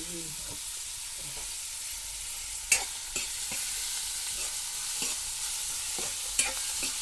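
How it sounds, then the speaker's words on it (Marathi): Onion is stir-fried in a pan until reddish brown for a Malvani-style dish. A steady close sizzle is broken by scattered scrapes and taps of the stirring spoon. "आता हे बऱ्यापैकी परतून घेऊया थोडा वेळ भाजायला पाहिजे चांगला तांबडा जाऊ काय ना कांदा"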